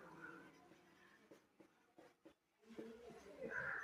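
Pen or marker scratching faintly across a board or page while working a Class 10 maths problem, in short intermittent strokes heard under a teacher's quiet talking.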